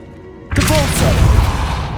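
A Depulso spell cast in Hogwarts Legacy on PS5 lands as one sudden loud impact, a booming whoosh that stays dense and roaring for more than a second before easing off.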